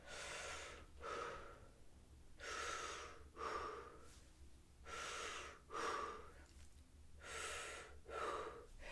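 An oboe player breathes low and deep, with steady, close rounds of audible inhales and exhales, each a breathy rush with a slight wheeze and no music.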